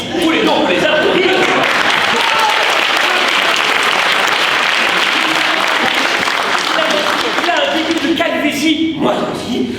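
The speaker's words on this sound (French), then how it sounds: "tous les deux, on peut les applaudir" Loud, sustained applause from an audience at the final of a student eloquence contest, dense clapping filling nearly ten seconds with cheers and voices mixed in, tapering off at the very end.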